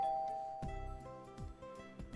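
A doorbell chime rings out clearly with sustained, bell-like tones, followed by a few deep repeated thuds underneath, all fairly loud and close with no voices.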